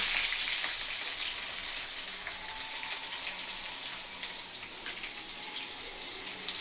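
Garlic and curry leaves frying in hot oil with mustard seeds, a steady bright sizzle with faint crackles, close and continuous without talk.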